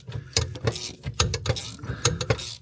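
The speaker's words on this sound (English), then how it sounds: "So I have a 15 swivel socket. That I'm using to take this out with." A 15 mm swivel socket ratchet clicks steadily as it removes a bolt from a GMC 3500 G-Van during a hydro boost brake unit swap, with rhythmic close ratcheting and metallic pawl ticks.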